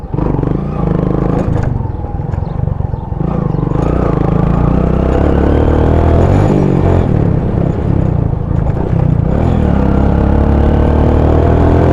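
A motorbike rides along a muddy track, its engine droning loud and close with uneven revving, rumbling and clattering over the rough ground for the whole stretch.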